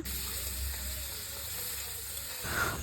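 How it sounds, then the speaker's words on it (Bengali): Onion and tomato sizzle steadily in a pan, with faint scraping of stirring nearby and a brief louder hiss near the end. "টমেটোর একটু হলুদ একটু নুন দেওয়ার পর এটাকে আবার নেড়ে চেড়ে নিচ্ছে"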